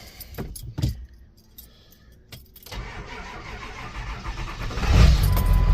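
A Ford Super Duty pickup is started after keys jangle, then the starter cranks slowly and laboriously with a steady churning drone. The sound is close and loud, with no voices.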